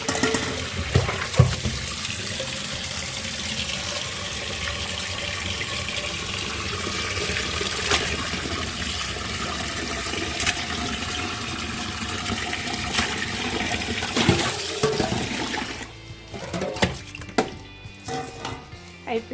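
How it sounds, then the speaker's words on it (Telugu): Water gushes steadily from a tap while chicken is rinsed in a pot. The loud, close splashing and running water carries on for a long stretch, then gives way to a few clinks and drips. "ఒక్కొక్కసారి కడిగి ఈ గిన్నెకి ఇట్లా నీళ్ళు లేకుండా చేస్తాను నేను"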